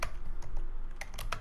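Fingers tap out C code on a computer keyboard in quick, uneven bursts of clicks, close and fairly quiet in an otherwise still room.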